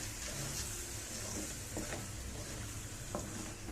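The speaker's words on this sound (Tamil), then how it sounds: "மேக்ரோனியை இது எல்லாம் ஒன்றா கலக்கிற மாதிரி நல்லா பரட்டி விடணும்." Macaroni pasta is stirred and fried with tomato sauce in a pan for an Indian-style masala macaroni, giving a steady sizzle with a few soft scrapes of the spoon and no talking.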